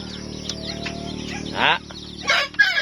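Bantam chickens cluck in a backyard where pigs are also kept, a few short calls rising over a steady low hum, with two louder bursts near the end.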